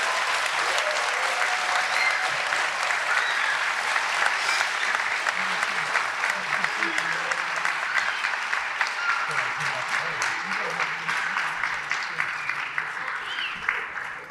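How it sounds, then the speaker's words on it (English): Sustained audience applause at a school board award ceremony, dense and even for several seconds before tapering slightly, with some voices mixed in. "Now we can applaud."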